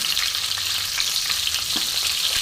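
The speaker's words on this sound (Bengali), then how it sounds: "পটলটা আমি ভালো মতন ভেজে নেবো লবণ হলুদ দিয়ে" Sliced pointed gourd (potol) seasoned with salt and turmeric fries in hot oil, giving a loud, continuous sizzle and crackle with a few soft stirring clinks and no voices.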